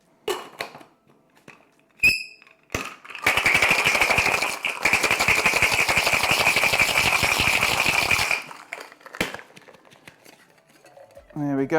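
Ice rattling hard in a cocktail shaker as a margarita is shaken, a loud steady burst of about five seconds after a few clinks of ice dropping in, fading to quieter handling at the end.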